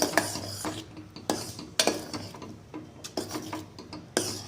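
A spoon scrapes a pan as ground cumin, turmeric, red chilli powder and salt are mixed into a masala for Gujarati peas dal. The scrapes come in about eight sharp, close strokes with quiet gaps between them.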